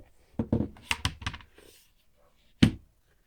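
Keys tapped on a computer keyboard fitted with rubber feet: a short burst of several quick, close clicks, then a pause and one final sharp keystroke, with no voices.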